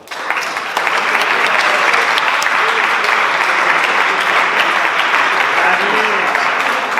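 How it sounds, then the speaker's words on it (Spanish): An audience bursts into loud, close applause at a Pint of Science talk in Plasencia, steady dense clapping that holds after a quick start, with faint voices mixed in beneath. "Un aplauso."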